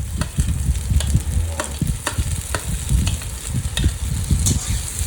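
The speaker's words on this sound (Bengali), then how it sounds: "এবার ক্যাপসিকাম কুচানোগুলো ঢেলে দিলাম" Chopped capsicum hits a hot pan while pasta is being cooked, giving a steady close sizzle broken by sharp scraping strokes of a stirring spoon at an irregular rhythm, with no voices.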